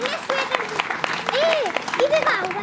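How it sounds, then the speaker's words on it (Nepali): An audience at a Gurung cultural event in Siklesh breaks into applause, a steady patter of clapping running beneath an announcer's amplified voice, moderately loud and continuous. "उहाँको लागि कृपया जोरदार ताली एकचोटि"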